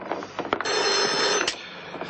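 A telephone rings in a room, with a short burst, a brief gap, then a long sustained ring and another short trill near the end, moderately loud and with no one speaking.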